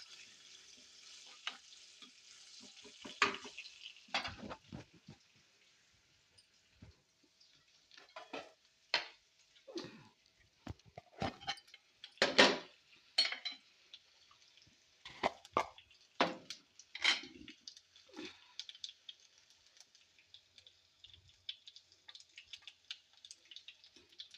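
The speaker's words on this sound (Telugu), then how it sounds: "కొద్దిగా జీలకర్ర పచ్చపచ్చ దంచుకున్న వెల్లుల్లి గర్భాలు వేసి కొంచెం వేగిన తర్వాత ఎండుమిర్చి వేసుకుందాం" Cumin seeds and crushed garlic fry in a pan as tempering for a coconut and dried red chilli chutney. The sizzle is quiet, broken by scattered pops and crackles, with no talking.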